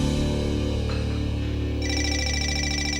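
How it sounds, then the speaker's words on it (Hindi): A telephone rings with a repeating electronic trill that starts partway through, clear and fairly close above a steady droning indoor background. "फोन बज रहा है, जरा देखो कौन है।"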